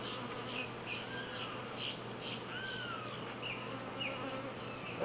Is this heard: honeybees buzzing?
yes